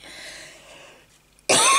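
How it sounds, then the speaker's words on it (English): A person has a sudden loud cough burst near the microphone at the end, after a stretch of quiet room tone. "Now I'm going to have a coughing session"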